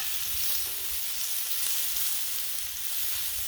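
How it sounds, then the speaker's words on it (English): Pork searing on a Blackstone griddle for pork fried rice, a steady, bright, close sizzle with light crackle and a few soft low bumps underneath, no voices. "Getting a good sear on the meat already."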